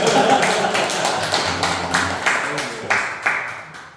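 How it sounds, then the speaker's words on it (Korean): An audience claps at a seminar brainstorming session, a burst of hand claps that trails into scattered, uneven taps over a few seconds, fairly close and alone without talk. "박수 한번 쳐주세요"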